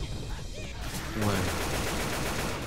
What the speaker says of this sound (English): here is a big ass machine gun